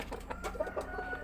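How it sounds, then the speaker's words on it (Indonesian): A purebred Pama chicken clucks softly and steadily in a farm pen, with short repeated clucks over a constant low background hum. "Ini ayam jenisnya Pama, masih pure sekali jenisnya, belum ada silangan"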